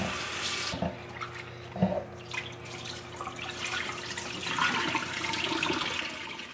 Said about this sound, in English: after cleaning, we are going to give them a second rinse